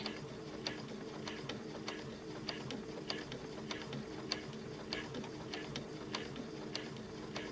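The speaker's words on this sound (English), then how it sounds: "I can place my foot down and I can start my stitching" A Baby Lock Chorus or Crescendo sewing machine top stitches a pocket, its needle tapping in a quick, steady mechanical rhythm under a low motor hum, fairly faint and close.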